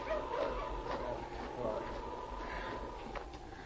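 Malamute sled dogs bark and yip in a vintage Yukon radio drama, the barking fairly faint and set back under a voice calling out to halt the team.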